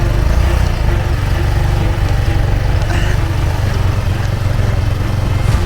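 An Aprilia motorcycle engine labors and bogs on beach sand in a loud, steady, low-pitched drone, close by, with no talking.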